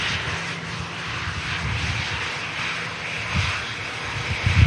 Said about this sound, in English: it's been great to see this aircraft operating on behalf of EasyJet